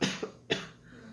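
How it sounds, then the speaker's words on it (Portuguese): Two sharp human coughs, a strong first burst and a second about half a second later, heard close and alone during a children's health lesson on microorganisms and germ transmission. "tossir aqui"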